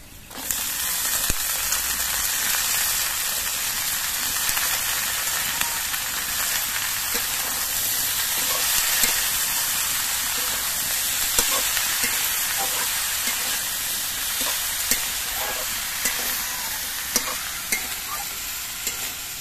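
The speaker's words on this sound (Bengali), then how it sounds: "এবার এর মধ্যে আমি পেঁয়াজ কলিগুলো দিয়ে দিচ্ছি।" Onion stalks fry in a hot pan with a dense, loud, continuous sizzle and crackle, close up, with occasional light stirring ticks and no talking.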